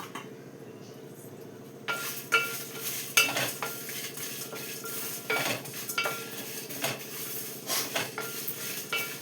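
Whole spices, including fenugreek, cumin, fennel, cinnamon, cloves, cardamom and peppercorns, hit a pan after a quiet start and sizzle steadily. A spoon clinks and scrapes against the metal in an irregular rhythm as they are stirred.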